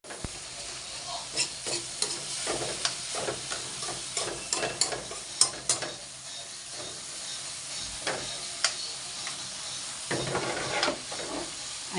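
Food sizzles and crackles steadily as it fries in a hot pan, with occasional stirring scrapes and faint voices in the background.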